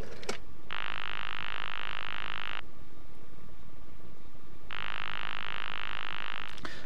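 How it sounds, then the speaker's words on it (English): A steady, continuous post-1960 telephone exchange dial tone sounds twice, each lasting about two seconds with a quiet gap between, over faint background hiss and clicks. "The post-60s dial tone, the one you just heard"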